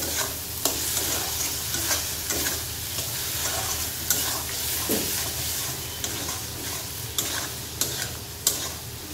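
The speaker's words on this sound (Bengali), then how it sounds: "মশলাটা একটু ভাজা ভাজা হয়ে গেলে" Spice paste fries in a pan for a kofta curry made with green bananas, a continuous close sizzle broken by repeated scraping stirs and clinks from a spoon.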